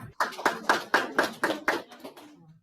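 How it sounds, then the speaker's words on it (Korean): Short burst of audience hand clapping at a Korean school principals' training session, about eight sharp, fairly even claps in quick rhythm, moderately close, fading out at the end. "박수."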